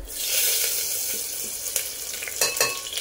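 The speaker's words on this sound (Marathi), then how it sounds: "मोहरी छान तळतळली की त्यात आपण घालून घेणार आहोत जिरे, लसूण," Mustard seeds, cumin and garlic sizzling in hot oil in a pan, a steady loud crackling hiss with a few sharper pops and stirring scrapes, close up and with no voices.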